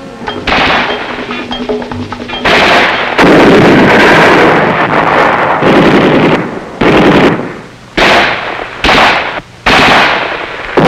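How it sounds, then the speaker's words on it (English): An infantry company fires rifles, grenades, machine guns and mortars all at once in a 1967 training demonstration: a loud, dense roar of overlapping gunfire and blasts, with sustained bursts broken by brief gaps near the end. "Everything cuts loose. Rifles, grenades, machine guns, mortars, the works."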